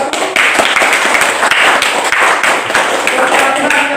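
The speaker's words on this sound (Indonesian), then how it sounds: "mari kita tepuk tangan untuk kelompok 1" A group of students clapping hands together for a classmate group, a brisk continuous patter of applause heard close and loud throughout, with a voice speaking over it.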